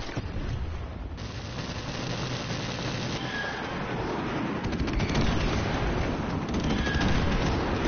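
Airstrike explosions and gunfire in Call of Duty Modern Warfare Remastered multiplayer: dense, continuous battle noise with booming blasts and rattling shots blending into a steady loud roar throughout.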